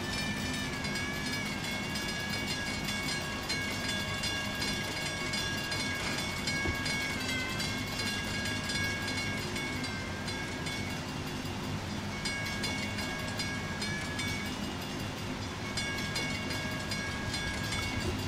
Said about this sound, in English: here's the train in question. It's still rolling backwards.